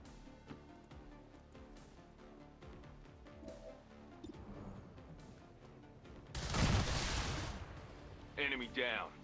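Gunfire in the strategy video game XCOM 2 Long War of the Chosen, scattered shots under game sounds, then a loud sustained burst of firing around two-thirds through, followed by a short crackling tail.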